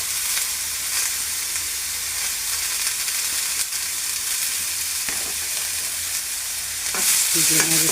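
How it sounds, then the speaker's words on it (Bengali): Carrots, added to ghee with cardamom, are stirred and roasted in a pan for a carrot semai dessert. A steady, close sizzle fills the whole stretch with scraping stirs, growing a little louder near the end. Nobody speaks. "গাজরটা একটু রোস্ট করব, সামান্য একটু নাড়াচাড়া করবো ঘিয়ের মধ্যে।"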